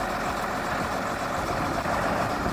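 Heavy diesel engine of a New Holland 8670 Genesis series tractor running at a steady idle, a continuous low rumble with no talk over it.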